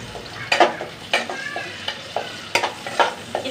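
Chopped onion frying in a pan for a cucumber curry, a close, steady sizzle broken by rhythmic spatula scrapes and stirs roughly every half second.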